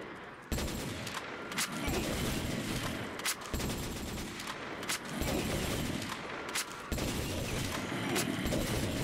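Rapid, continuous video-game gunfire in a Minecraft zombies map, sounding in dense bursts with brief gaps between them, close and fairly loud.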